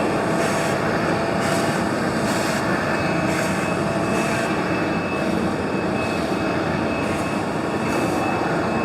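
An automatic die cutting machine for folding cartons and packaging runs steadily, producing a loud, constant mechanical roar with faint regular pulses of rhythmic clatter throughout and no voices.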